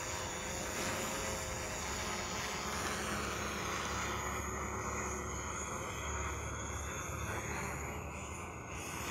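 A DJI Mavic Pro drone in flight, climbing toward its return-to-home altitude of about 325 feet, gives off a loud, steady rotor whine and broadband buzz that holds constant throughout, with no talking.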